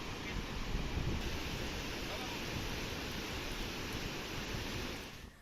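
Water roars out through 23 partly opened dam gates during heavy monsoon rain in Maharashtra, a loud, steady, broadband rushing that continues unbroken before fading slightly at the end.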